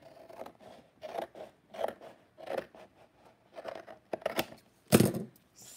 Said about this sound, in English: We'll cut that.